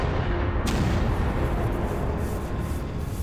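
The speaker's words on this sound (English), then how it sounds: "Three hydrogen gas explosions." Hydrogen gas explosion at the Fukushima Daiichi nuclear power plant, heard as a sustained, heavy rumbling roar with a sharp onset, loud and dense throughout.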